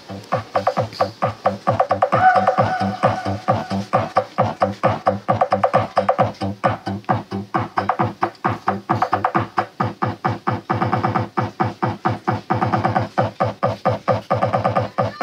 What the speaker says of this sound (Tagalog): So i-play natin muna ang bass subwoofer frequency, kung ano yung tunog niya.